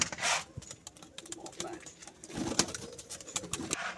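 Several pigeons, golden high-flyer birds kept in a group of four males and six females, coo softly in bursts amid scattered rustling and faint background noise, with some voices talking nearby.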